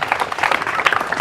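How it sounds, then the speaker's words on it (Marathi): A short burst of audience applause breaks out during a question-and-answer talk session, dense overlapping clapping at steady loudness for just over a second. "हिच्यासाठी पहिल्यांदा टाळ्या वाजवा"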